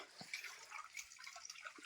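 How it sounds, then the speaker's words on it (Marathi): Water from the Amruteshwar temple tank at Vishalgad spills and trickles steadily, a faint, close, continuous splashing with small drip-like accents and no voices. "अमृताप्रमाणे तिकडं पडणारं पाणी हे असं येते"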